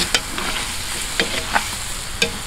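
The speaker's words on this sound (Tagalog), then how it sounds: "Haluin natin." Humba pork is stirred in a pan after vinegar goes in, a steady sizzle punctuated by four sharp spoon scrapes at irregular intervals, close and clear, with no one talking.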